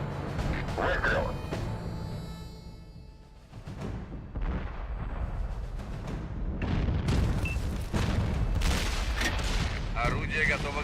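Artillery fire in the tank game World of Tanks, heavy booming gun blasts and rumbling battle noise layered under voices and radio-style game speech, with dense explosive bursts throughout.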